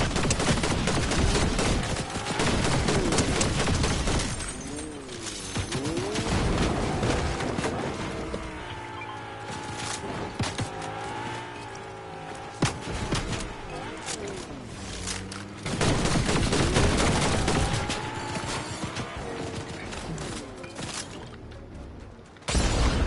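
Rapid bursts of gunfire and whooshing effects from the video game Fortnite, loud and dense, fading in and out across the stretch with brief lulls.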